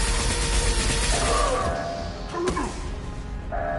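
A metal security shutter in Mass Effect 2 grinds shut with rattling, ratchet-like mechanical clanks, a sharp impact midway and a final thunk as it locks, over steady game ambience.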